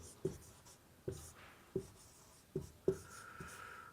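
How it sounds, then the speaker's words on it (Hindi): Chalk or pen tapping and scratching on a board while writing out the proof of Gauss's theorem in a Class 12 physics lesson, five sharp strokes spaced about a second apart against a quiet room. "लिखेंगे गॉस की प्रमेय को"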